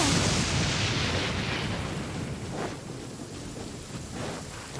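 Stormy weather in the game Genshin Impact: steady heavy rain hisses throughout while a deep rolling rumble of thunder swells at the start and fades away.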